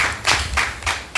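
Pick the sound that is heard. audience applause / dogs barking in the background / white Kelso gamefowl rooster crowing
audience applause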